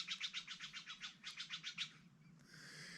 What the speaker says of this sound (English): That was that Stellar's Jay.